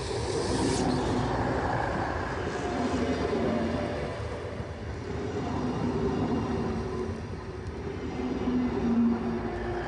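A diesel ICE test train rumbles past in Berlin, between Wannsee and Lichterfelde-West, continuously at steady volume, with a deep engine drone and faint wheel squeal over the steady rolling noise.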